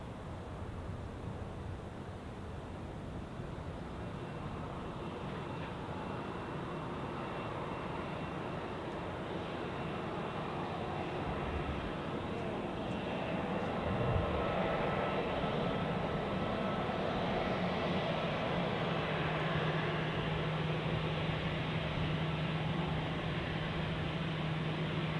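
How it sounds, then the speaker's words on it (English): An Edelweiss Airbus A340 arriving from Punta Cana touches down on runway 14 at Zurich Airport, a steady broad roar of jet engines that holds for the whole stretch and swells slightly midway, heard from a distance with no voices. "here we have the second out of 3 Edelweiss A340s this morning, inbound from Punta Cana. Now touching down on runway 14"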